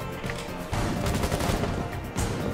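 Gunfire in the video game Rainbow Six Siege, dense loud bursts of rapid shots running almost continuously with brief dips, close and harsh.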